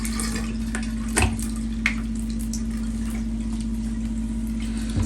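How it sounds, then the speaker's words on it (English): Cleaner is sprayed onto a reusable K&N cabin air filter to soak it, producing a steady wet hiss with a few brief louder spurts over a constant low hum, close and without talking. "Now we're going to take our cleaner and soak it really well"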